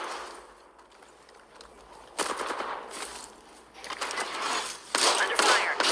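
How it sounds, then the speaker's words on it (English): Automatic gunfire rattles in Apex Legends, with rapid bursts of shots rising and falling in loudness over several seconds while a voice speaks at times. "I'm getting shot at."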